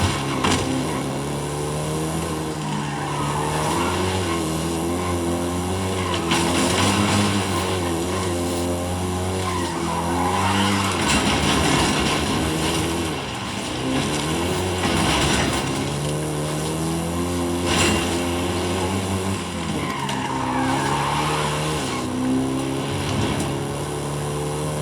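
A Volkswagen Golf GTI driven in the racing game Forza Horizon 5, its engine droning steadily loud with rising and falling revs, gear changes and occasional tire skids, continuous and close with no talk.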